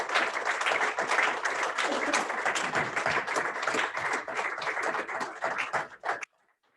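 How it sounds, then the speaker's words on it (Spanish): Congregation in a church service applauding, a dense burst of many hands clapping, loud and close, fading briefly and then cutting off abruptly near the end. "Den un aplauso al Señor"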